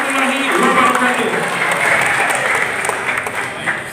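A crowd applauds at a political declaration event held by the Kosgoro 1957 organisation in Jakarta, with dense steady clapping that fills the whole stretch at full loudness.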